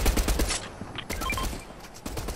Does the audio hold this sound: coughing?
no